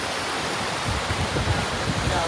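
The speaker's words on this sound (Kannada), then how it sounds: "ನೀರು ಸೌಂಡ್ ಕೇಳ್ಬೋದು." Rushing water in a deep river at Mini Dandeli, a steady broadband roar that swells slightly in the second half, continuous and fairly close, with no talk over it.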